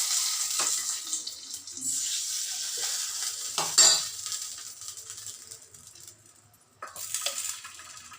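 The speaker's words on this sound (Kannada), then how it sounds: "ಈಗ ಗಂಜಿ ಸೇರಿಸಿಟ್ಟಿದ್ದೀನಲ್ಲ, ಅದಕ್ಕೆ ಈ ಒಗ್ಗರಣೆ ಹಾಕ್ತಾ ಇದ್ದೀನಿ." Spice tempering for ganji saaru, a rice-water soup, sizzling as it is poured in, with bursts of hiss, clinks of a pan and spoon and stirring, loud at first and then quieter, with brief pauses.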